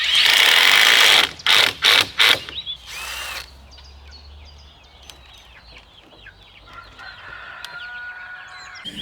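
Chickens and turkeys on a homestead call out in several loud, close bursts at the start, followed by fainter scattered clucks and calls.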